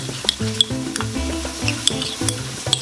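Spice mix is stirred in a hot pan, giving a soft continuous sizzle broken by scraping strokes and sharp clicks of the utensil against the pan, heard over a melodic background tune.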